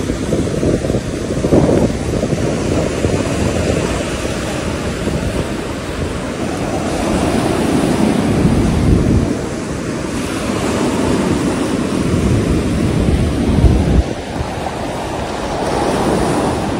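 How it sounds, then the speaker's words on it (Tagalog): Ocean waves crashing and washing up on a beach shore, a loud continuous roar of surf with surges rising and falling, mixed with heavy wind buffeting the microphone, no voices. "Pakinggan nyo yung hampas ng mga tubig sa dalampasigan."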